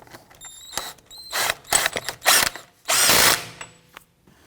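A power tool tightens the axle nut on a 2017-2020 Hyundai Elantra 2.0L during front CV axle replacement, firing in several loud, close bursts of whirring and ratcheting with short gaps between them.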